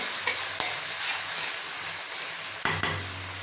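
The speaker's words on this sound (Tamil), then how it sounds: "ஸோ இது நல்லா வதங்கட்டும் வெங்காயம்" Onions sautéing in a pan for a fish-head and raw-mango fish curry, a steady close sizzle with a few sharp scrapes and knocks of stirring near the start and end, no voices.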